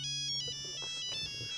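A mobile phone ringtone plays alone, a bright repeating electronic melody with steady tonal chimes, fairly loud and close, running through the whole moment without talk.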